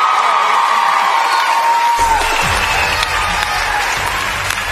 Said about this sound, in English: that crowd just went off at the end of your performance